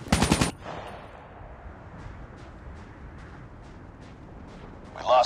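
Gunfire in a multiplayer ranked-match shooter video game: a short loud burst of rapid automatic fire at the start, faint distant pops through the middle, then another brief loud burst at the end.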